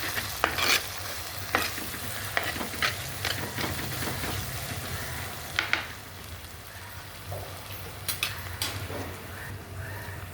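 Onions and spice powders sautéing in a pan produce a steady sizzle with intermittent scraping and stirring clicks from a spoon. The cooking sounds are close and continuous, and no voices can be heard.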